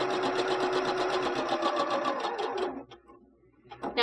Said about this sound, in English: So bring this over to your sewing machine, and with a 3/8 of an inch seam allowance, we're going to sew it all together.